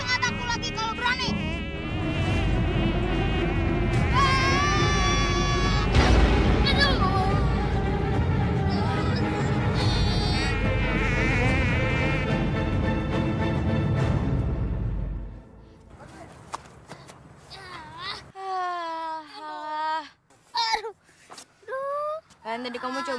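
A buzzing wasp in an animated children's cartoon drones steadily and loudly for about fifteen seconds under music and voices, then characters talk in a quieter stretch.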